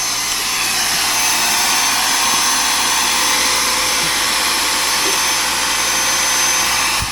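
Magnum X5 airless paint sprayer running with its intake sucking air instead of paint, a loud, steady, high whining motor hiss that holds unchanged throughout, close by.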